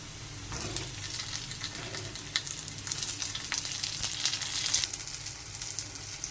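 Tomatoes sizzle in oil with fried chopped onion, whole cumin and bay leaves, a steady close crackle with occasional sharper spatters and faint stirring scrapes.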